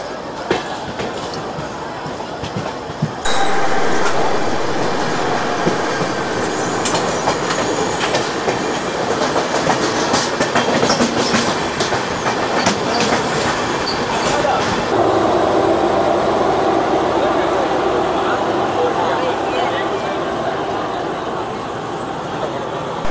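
The 12357 Durgiyana Express from Kolkata rolling toward Amritsar: a loud, continuous carriage rumble starts abruptly after a quiet moment, with rhythmic clatter of wheels over rail joints and faint squeals, heard from inside the train.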